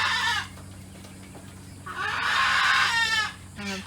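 Small farm birds in a pen call out in bursts of high chirps and squawks, several overlapping calls close by, with a steady low hum underneath.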